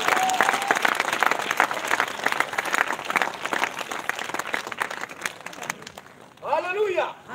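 Church congregation claps and cheers in praise, a dense, loud wash of applause that slowly thins, with voices rising over it near the end.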